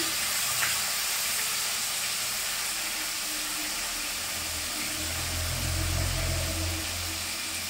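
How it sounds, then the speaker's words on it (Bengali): Steady loud hiss and sizzle of fish frying in hot oil, continuous throughout with a low rumble swelling near the end. "এই মাছগুলো দিলে প্রচুর তেল ছিটকায়"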